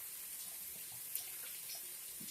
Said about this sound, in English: what I do is I wash it really good